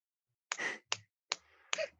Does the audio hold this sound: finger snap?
yes